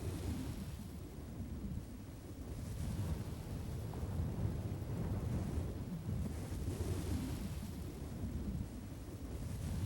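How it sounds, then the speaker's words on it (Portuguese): Dry desert wind blows continuously in a low, rumbling, gusty roar that swells and eases without a break, with no voices. "O vento do deserto árido sopra durante o dia todo."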